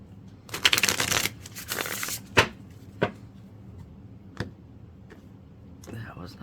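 A tarot deck riffled in two close, brisk shuffling bursts, then a spaced series of crisp taps and clicks as the cards are knocked together and cut, with no voice present.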